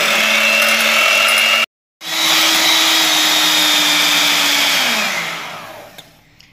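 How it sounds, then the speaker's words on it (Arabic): An electric mixer whipping egg whites with a pinch of salt into stiff peaks, a loud, steady motor whine with a short pause partway, then running on before fading out near the end. "ونطلع هذا البياض حتى يولي كي شغل ثلج"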